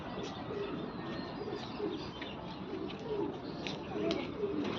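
Pigeons coo softly and repeatedly against a steady background murmur, with a few faint chirps mixed in.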